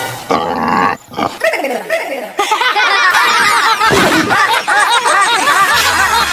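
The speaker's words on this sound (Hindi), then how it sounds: "जीजा, सुअर।" Loud, dense squealing and grunting from animals, continuous and close, with harsh snorting textures throughout.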